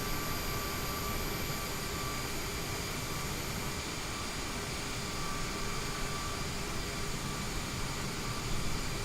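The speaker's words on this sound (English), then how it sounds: "I can hear another plane coming in." In Microsoft Flight Simulator, another airplane comes in to land, a steady, unbroken jet engine roar with airy hiss that holds at an even level throughout.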